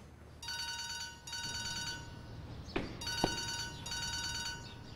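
A telephone rings in two long electronic bursts, a steady trilling tone that stops and starts again, moderately loud in a quiet room with a couple of soft knocks in the gap.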